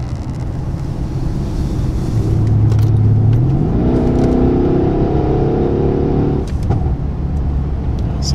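Mercedes-Benz S63 AMG engine rises from a low rumble to a rising roar under acceleration, heard from inside with heavy wind and road noise throughout.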